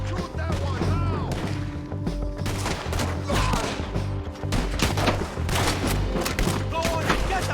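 Red Dead Redemption 2 beach shootout with bursts of gunshots and heavy thuds. The firing comes in uneven volleys, with voices and game sounds mixed in.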